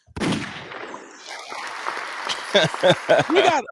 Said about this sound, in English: Play the hand clap for us, please.